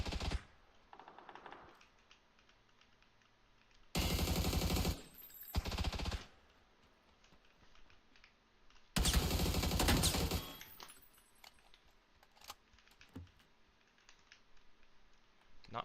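Gunfire in the battle-royale game PUBG: two loud sustained automatic bursts and a few sharper single shots, set against a steady background of keyboard typing and faint game ambience.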